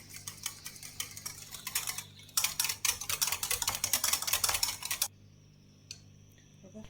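A whisk beats oil into cake batter in a bowl, the oil added in two parts. The rapid, fairly loud metallic clicking and ticking speeds up and then stops abruptly, followed by near quiet.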